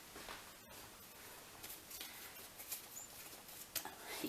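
Small, high squeaks and faint chirp-like pops come from air escaping bread dough as rolls are shaped by hand, quiet and close, scattered irregularly over a soft background hiss.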